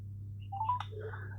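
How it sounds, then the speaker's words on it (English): A few short telephone dial tones beep in quick succession over a steady low electrical hum, faint and close. "Ringing up Graeme Kenna"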